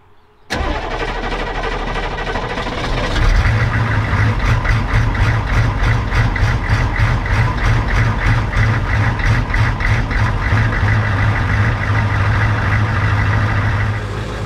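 A Humvee diesel engine cranks and struggles before catching, then settles into a loud, steady idle with a rough rhythmic pulse, close and alone.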